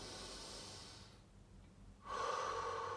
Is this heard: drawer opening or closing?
no